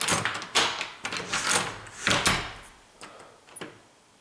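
A wooden door that had been sagging is closed and opened repeatedly against its frame, giving a series of sharp knocks and thuds at irregular intervals, close and fairly loud, with no talk.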